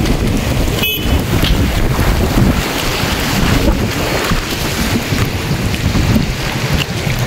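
Strong wind blows steadily outdoors by the sea near Mabini, Bohol, roaring into the microphone as a loud, continuous rush with a brief knock near the start.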